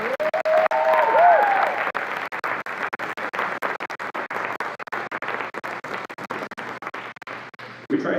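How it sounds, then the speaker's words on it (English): Audience applause at a school honors night for a student who played Berceuse on the alto saxophone: dense, steady clapping that lasts throughout and fades slightly toward the end, with a brief tonal sound early on. "Give her a round of applause."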